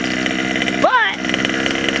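Small gasoline engine on a Baja minibike, buzzing at a high steady drone that briefly revs up and drops, heard close and loud alongside someone talking.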